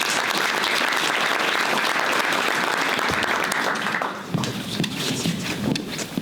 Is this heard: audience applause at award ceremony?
yes